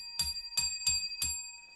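Bell struck four times in a quick, slightly uneven rhythm, each ring bright and sustained, close and clear with no talking.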